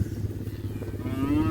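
Cattle in a pasture with green feed under old growth, a herd resting in the morning, one cow letting out a loud, close moo that rises at the end, with low rumbling beneath.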